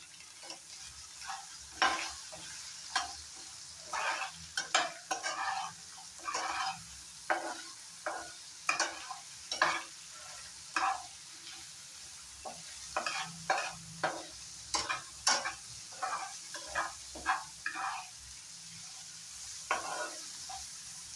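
A bay leaf frying in oil in a pan for a paneer dish while a utensil stirs it, giving a soft continuous sizzle broken by repeated scraping strokes in an uneven rhythm.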